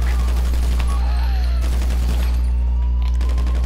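SMG fire in GTA 5 Online during a prison break heist, rapid shots running under a steady low hum with talk mixed in.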